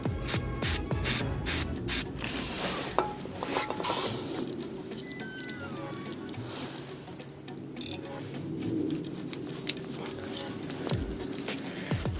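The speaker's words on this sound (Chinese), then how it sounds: "喷一下这个螺丝就好了。" WD-40 is sprayed onto a rusted screw on a Honda FD2 wheel setup, with a close, steady hiss after some initial clicks and handling noises.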